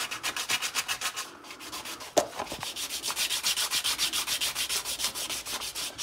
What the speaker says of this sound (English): I'm just sanding them down. I've started off with 240 grit